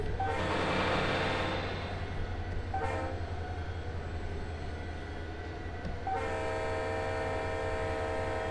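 A locomotive horn sounds in a Run8 simulator session of Union Pacific switching at Bakersfield, a sustained blast with rumbling train noise beneath, then a second horn blast near the end.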